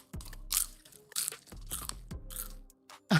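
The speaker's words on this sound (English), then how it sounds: "my crunch sound good" Loud crunchy chewing close to the mic, several crisp bites and chomps in uneven bursts, with brief quieter gaps between mouthfuls.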